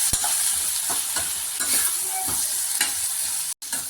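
Potato fry sizzles continuously in a pan as it is stirred, with repeated soft scrapes and taps of the spoon, close and loud, and a brief dropout near the end.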